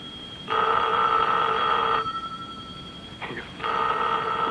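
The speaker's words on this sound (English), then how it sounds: "You better answer the phone." An old telephone bell rings in a 1946 radio drama, two loud sustained rings separated by a short pause, close and clear with no talk.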